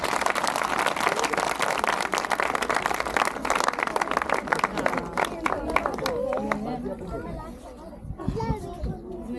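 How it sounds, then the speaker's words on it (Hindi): Congregation at a Christian church service clapping loudly together in praise of Jesus as king, a dense crowd din with children's voices mixed in, tapering toward the end with some speech. "जोर से बजाएं भी ताली बादशाह के लिए"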